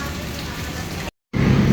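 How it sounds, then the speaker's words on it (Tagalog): Heavy rain pouring in Marikina, a dense steady hiss of downpour striking surfaces up close, briefly cut to silence before resuming even louder. "hindi na rin natin makita sa lakas ng ulan"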